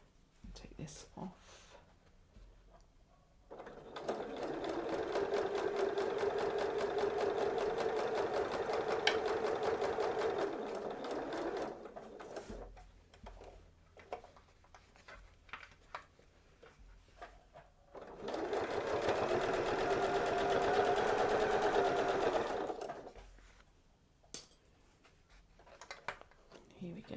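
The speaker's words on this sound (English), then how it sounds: "I'm going to stitch up to where the other stitching begins." A sewing machine stitches a fabric bag organiser in two long continuous runs of rapid mechanical whirring, separated by a quieter pause with small handling clicks.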